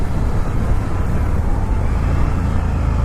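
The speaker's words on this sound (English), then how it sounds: "Wow, the downshift is great." A 2019 Indian FTR 1200 S motorcycle downshifting, its engine and exhaust a loud, steady rumble close by throughout, with no talk over it.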